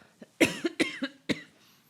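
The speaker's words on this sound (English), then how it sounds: "excuse me, I'm going to cough" A person coughs several times in quick, harsh bursts up close, then falls quiet.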